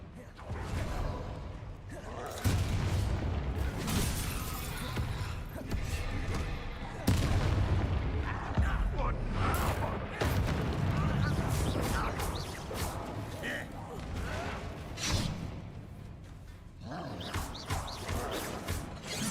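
Explosive barrels blow up in Hogwarts Legacy, a string of loud booming bursts and crackling blasts over continuous game noise, with a voice talking intermittently.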